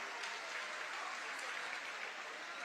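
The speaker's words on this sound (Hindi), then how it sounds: "एक बार सबके लिए जोरदार तालियां हो जाएं।" A crowd at an outdoor public government event at a ground in Mahsi, Bahraich, claps in steady, dense applause, loud and even throughout with no pauses.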